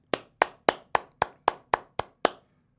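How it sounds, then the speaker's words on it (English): A group of children clapping together for their parents and guardians, with nine sharp, evenly spaced claps in unison that end abruptly into silence. "Children, can we clap for our parents and guardians?"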